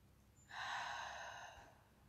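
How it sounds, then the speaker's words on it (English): One slow, deep breath drawn in close to the microphone, a soft airy rush that swells and fades over about a second, with no speech. "slow, deep breath."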